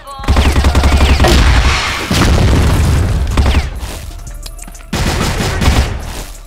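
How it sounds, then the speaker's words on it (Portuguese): Bomb blasts and heavy gunfire in a battle royale video game: loud, close bursts of booming detonations and rapid shots in several clusters, separated by brief lulls. "Nunca vi uma bomba tão bonita."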